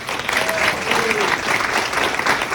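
A stand-up comedy audience claps for a show staff member, a dense burst of applause that holds steady throughout at moderate loudness.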